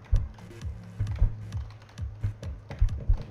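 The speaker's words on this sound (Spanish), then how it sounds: "¿Estáis escuchando el teclado, no?" Close computer keyboard typing during a Clustertruck game session, irregular clacking keystrokes in short bursts with no voices.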